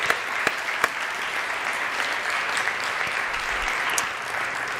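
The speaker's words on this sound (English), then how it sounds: "Can we give another round of applause to all of the awardees?" Audience at a 6th and 7th grade academic awards ceremony applauding the award winners, a steady wash of clapping from a crowd held loud throughout, with a few sharper nearby claps standing out.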